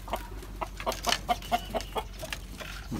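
Hen clucks in a quick series of sharp, rhythmic calls just after laying an egg, close and fairly quiet with low background noise.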